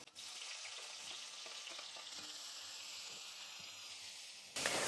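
Sliced onion frying with garlic and mustard seeds in a pan, a dense, steady sizzling hiss heard up close, with a brief sharper burst of sizzle at the very end.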